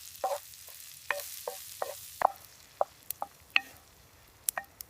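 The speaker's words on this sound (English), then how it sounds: "The sound of food cooking feels comforting in the cold." Food sizzles and crackles quietly in a pan over a winter campfire, with scattered sharp pops and clicks of stirring or spattering over a faint steady hiss.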